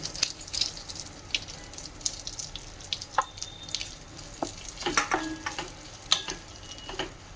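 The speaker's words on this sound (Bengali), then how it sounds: "নারকেলটাও একটু ভেজে নেব" Grated coconut fries in ghee in a pan while chira halwa is being made, giving a faint, soft sizzle scattered with small crackles and pops.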